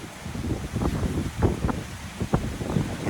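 Strong wind blowing across an open plot of land in Navatkuli, Jaffna, a loud continuous roar with gusting surges and rustling buffets against the microphone, no voices.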